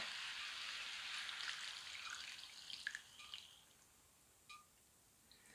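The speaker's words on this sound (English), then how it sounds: "I'm just going to add some stock, some vegetable stock" Vegetable stock poured into a pan of cooking vegetable curry, a hissing, splashing pour that fades into quiet sizzling with a few small drips, close and faint.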